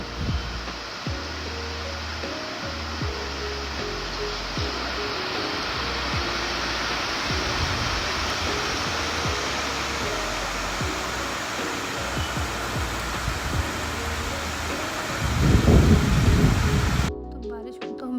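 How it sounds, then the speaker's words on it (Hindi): Steady heavy rain falls outside a room, a constant dense hiss throughout with low rumbling swells that could be thunder, building to a louder surge near the end. "देखिए अभी तक बारिश हो रही है यहाँ पे।"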